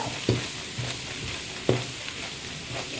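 Elephant foot yam is stirred with chili powder in a pan: two distinct scraping stirs over a steady, quiet sizzle, with no talking.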